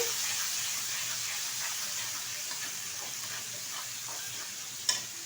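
Ginger, onion and garlic juice fries in a wok, a soft, continuous sizzle with faint scraping stirs running under it and one sharp click of utensil on metal near the end.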